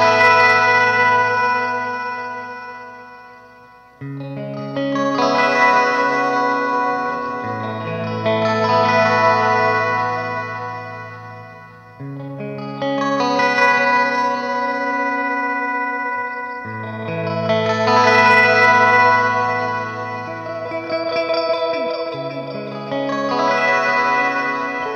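A guitar plays sustained, buzzy chords through a Thimble Wasp FX octave fuzz pedal, the fifth removed to leave two stacked octaves in unison, phrases swelling and fading over a long stretch.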